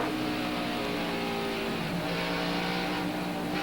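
Race cars circle the steeply banked Bristol short track during a 2004 Busch Series race, with a continuous loud engine roar and tones shifting as the pack passes close by.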